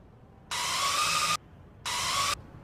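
Power drill driving screws during a VR solar panel installation training game; two loud, even bursts of whirring, the first a little under a second long and the second about half a second, separated by a brief pause.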